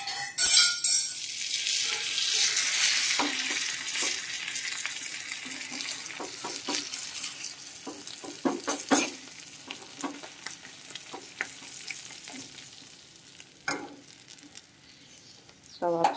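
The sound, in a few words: tempering sizzling while frying for dal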